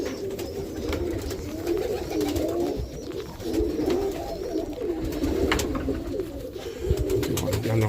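Roller pigeons coo steadily in a breeding loft, a continuous layered murmur of low throaty calls from many birds nearby, with occasional rustles and soft clicks.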